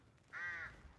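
A single crow caws once in the Resident Evil Village video game, a short, harsh, fairly loud call lasting about a third of a second, with faint low rumble around it and no talking.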